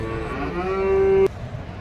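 Cattle low loudly at a cow market in Karimangalam, Dharmapuri district, where heifers stand tied; one long, steady moo carries over the market hubbub and cuts off abruptly, leaving background murmur.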